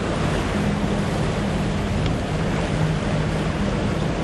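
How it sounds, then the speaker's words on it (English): Water of the East River near the Brooklyn Bridge laps and churns in a constant loud wash, mixed with wind buffeting the microphone and a faint low hum, with no voices. "water floating in a river, just like the East River behind us here"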